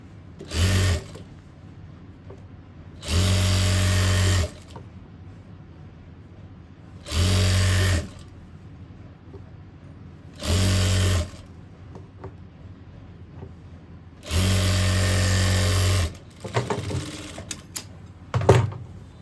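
A sewing machine stitches fabric for a boy's co-ord set in five separate bursts of running, each a few seconds long, with quiet pauses between them and small handling clicks near the end.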